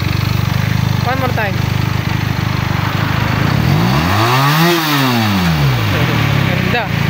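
A 400cc parallel-twin motorcycle on its stock exhaust revs up hard, climbs to a high-pitched peak and falls away over a few seconds, close by, with people talking around it.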